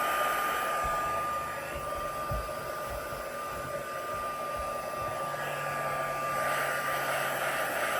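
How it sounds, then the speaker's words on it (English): A heat dryer blows steadily over a card-making work surface, a constant close whooshing roar with a thin high whine, lasting throughout without pause. "I'm just going to dry my work surface quickly."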